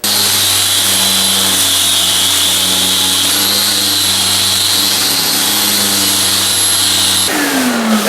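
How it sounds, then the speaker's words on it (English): Power sander with aggressive 80 grit sandpaper on walnut, a loud close continuous motor whine and abrasive hiss that runs steadily before cutting off near the end. "And let's run the sander. Now this is an 80 grit, and this is a very aggressive cutting piece of sandpaper."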